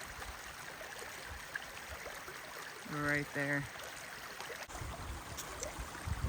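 Stream water running across a hiking trail in the Allegheny backcountry, a steady gurgling trickle close by, with a brief burst of splashing midway and a voice speaking briefly over it.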